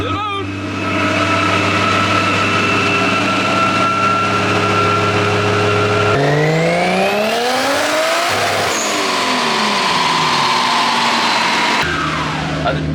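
A Nissan S13 with a 1JZ-GTE engine revs on a dyno, its tone climbing steadily through the gears with shifts and pitch drops, loud and close, with people talking nearby.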